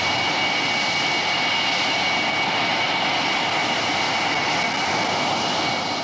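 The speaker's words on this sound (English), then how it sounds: "Jim Ludford makes a perfect touchdown and taxis in after the fastest flight he has ever made." A light aircraft touches down and taxis in, a continuous loud engine drone with steady broadband roar and a faint high whine throughout, no voices over it.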